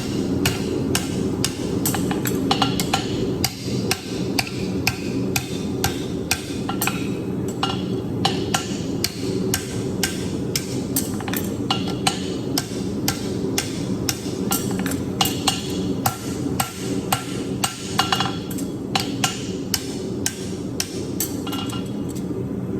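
Steady, rapid hammer blows ring on an anvil as a straight bar horseshoe is shaped, with sharp metallic strikes repeating close and loud for the whole stretch and no talking.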